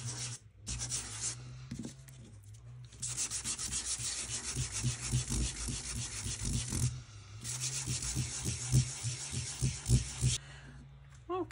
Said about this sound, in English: So I'm just going to start around the edges, just sanding it back, roughing it up.